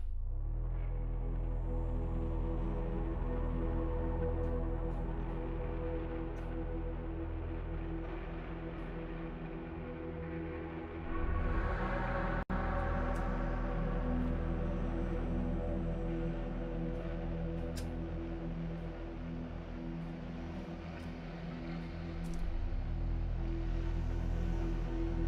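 Drum and bass intro built from a deep sustained sub bass with an airy atmospheric pad layered on top, a steady droning wash with a brief swell and dip near the middle, moderately quiet and without drums or voices.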